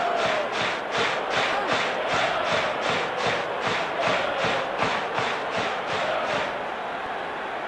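Stadium crowd in a PES football simulation of a World Cup match roars steadily with rhythmic chanting pulses, a dense wall of cheering voices throughout, easing slightly near the end.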